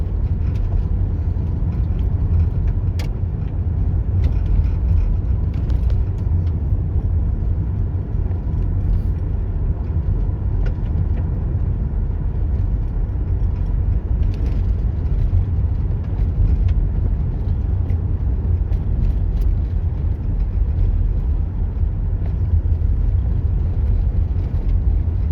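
A car drives on a road during an evening commute, heard from inside the cabin as a steady low road and engine rumble with no talk.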